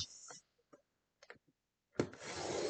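Scissors snipping through scrapbook paper, a couple of short soft cuts followed by a longer louder rasping pass that carries right through the sheet, close up with quiet gaps between strokes.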